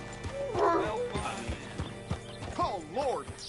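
A horse in the Red Dead Redemption II video game, with soft hoof clip-clops and a rising, wavering whinny near the end, fairly quiet over a low background, with a voice briefly audible.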